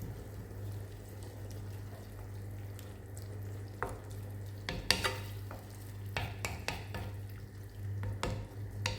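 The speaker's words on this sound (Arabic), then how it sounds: "نحط كاس ماء دافي ولا سخون ونخليه يغلي شويه" A pan of warm water simmers, sizzling and bubbling steadily under a low hum, with a few clinks and scrapes of stirring near the middle.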